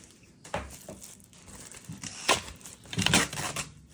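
Crinkling and ripping of tape and packaging as a heavily taped parcel is torn open, in a few close, uneven bursts, with quieter rustling between them.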